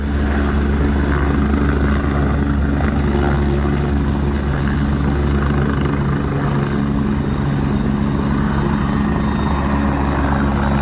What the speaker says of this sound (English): This helicopter creating a dust storm.